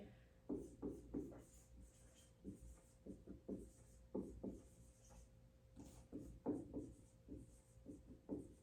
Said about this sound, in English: I'm going to write that down right here.